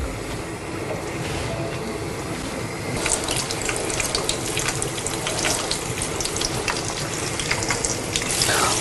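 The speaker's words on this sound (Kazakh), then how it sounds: "Крылышкемізді осылай тұрып алып, майға қуырамыз." Flour-coated chicken wings fry in oil over low heat, giving a dense, continuous crackle and sizzle that grows busier partway through, with no voices.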